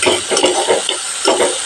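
Sweet corn kernels frying with onion and garlic for a sweet corn soup, giving a soft sizzle with light stirring scrapes that come in short bursts, close by and moderately loud.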